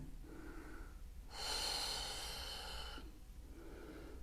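Deep breathing during a labour exercise at home, one long audible breath lasting about a second and a half, close and soft, set between quieter stretches of faint breath noise.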